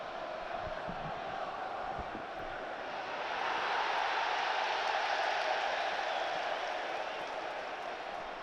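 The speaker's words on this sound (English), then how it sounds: "Sarcastic applause from the Sunderland fans." Sarcastic applause from Sunderland fans in a football stadium, a broad distant crowd clapping and murmuring that swells midway and holds, faint and diffuse across the stands.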